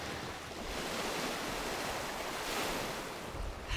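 Gentle surf washing onto a quiet beach on Paros, Greece, a soft continuous wash of calm water with some wind buffeting the microphone and no voices.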